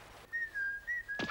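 Someone whistles a short, thin sustained tune in a theater, with a few steady held notes, fairly quiet and close, ending with a soft thump.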